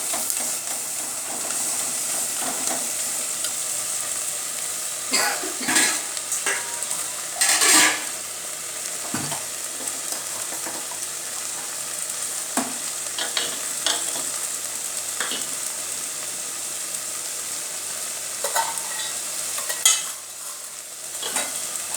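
Tomatoes sautéing in a clay pot for fish curry, a steady close sizzle and hiss broken by occasional stirring scrapes and clinks, with no talk.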